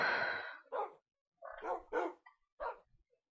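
Small dogs in a hardcore survival adventure video game bark in a few short, sharp bursts separated by brief pauses, close and clear, with no talking over them.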